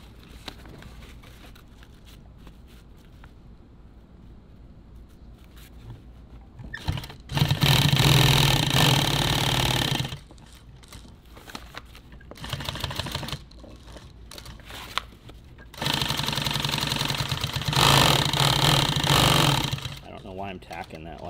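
Sewing machine stitching nylon tactical gear runs in two loud sustained bursts of about three seconds each, with a shorter run between them and quieter workshop sounds and talk in the gaps.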